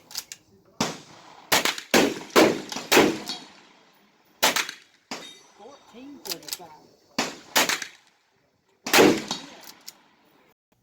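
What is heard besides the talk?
Federal Automatch 22LR gunshots during ammo test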